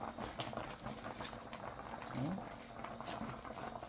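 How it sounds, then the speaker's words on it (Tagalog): Vegetable soup packed with vegetables bubbles at a steady, low boil in a pot, giving a continuous close-up burble throughout with no talk over it. "Isang kulo lang yan, pwede na."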